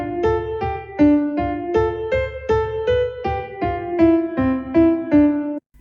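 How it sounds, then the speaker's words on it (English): Short, detached piano notes played staccato, each struck and quickly released in a steady rhythm of about a dozen separate notes, clear and close with no talking. "a staccato playing sounds like this."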